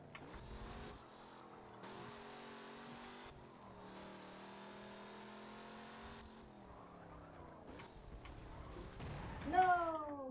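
Racing car engine in a video game, a steady droning engine tone holding and shifting pitch, with a brief rising whine near the end; fairly quiet throughout.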